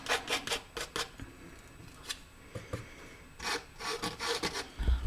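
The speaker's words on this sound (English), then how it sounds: "I would like you to pay your attention on this sound. It is scratching movements" A palette knife scrapes paint across a canvas in short, repeated strokes, giving close, dry rasping sounds in irregular bursts with brief pauses between them.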